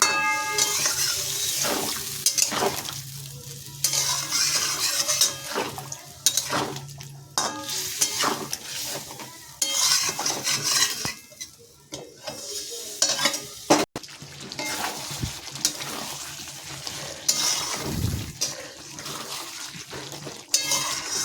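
Masala sautéing in a pan after spice water is added gives a steady wet sizzle with repeated stirring scrapes and occasional clinks of utensil on metal, close and moderately loud throughout.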